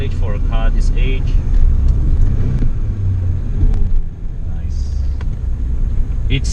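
A BMW E30 with a 1.8 litre four-cylinder engine rumbles and revs steadily as someone talks over it from inside the car.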